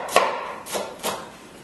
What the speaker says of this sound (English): some onion, a Spanish onion. I'm just going to cut this up coarsely